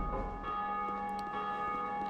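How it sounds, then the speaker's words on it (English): A bell rings in the video game Dark Souls 2, a sustained metallic tone with bright ringing overtones that hangs steadily and loud for about two seconds. "pull this, ring the bell"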